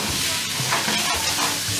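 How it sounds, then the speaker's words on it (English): Rice with spring onion is stirred in a hot pot, giving a loud, continuous sizzle with scraping stirring strokes close by and no voices. "I'm going to stir the rice, cook it with the spring onion,"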